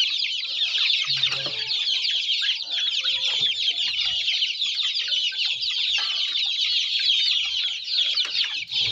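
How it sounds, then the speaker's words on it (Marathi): Country chickens and a rooster on a small farm, clucking and calling steadily throughout, a dense, continuous chatter of many birds close by with a brief low sound near the start. "बघा कोंबडा बघा कसा"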